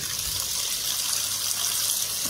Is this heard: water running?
yes